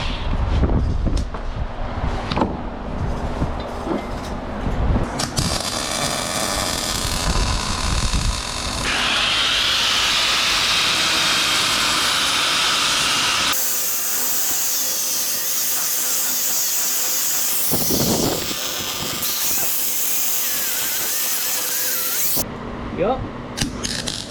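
Welding on a small utility trailer under repair: long stretches of steady, harsh crackling hiss run close and loud, broken by short pauses, with bits of talk and tool clatter at the start.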